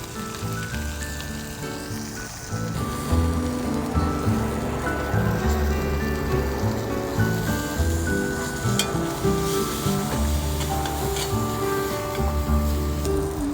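Onion and garlic sizzle and fry steadily in a hot pan while making shutki bhorta, a dense continuous crackle that grows slightly louder partway through, with background clatter and faint music-like tones.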